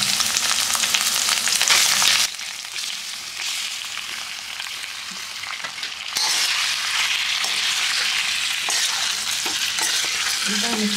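Chicken fries in a pan with ginger-garlic paste for a pepper chicken fry, a close, strong sizzle broken by repeated stirring scrapes, easing quieter midway before flaring loud again; no one speaks.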